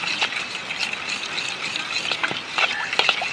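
Sugar, oil and milk being stirred together in a bowl for carrot cake batter, a continuous close-up swishing and scraping with small clinks of the utensil against the bowl.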